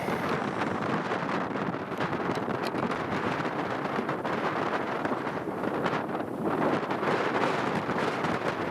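Strong wind gusting across the open Arctic in bitter cold around minus 50, a steady roaring rush buffeting the microphone throughout, with no talk.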